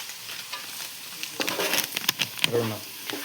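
Pav bhaji masala being stirred into a cooking mixture in a pan, with quiet sizzling and a burst of scraping, clattering stirs midway, nearby and fairly soft.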